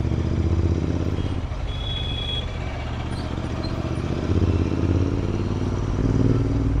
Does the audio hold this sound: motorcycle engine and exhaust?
yes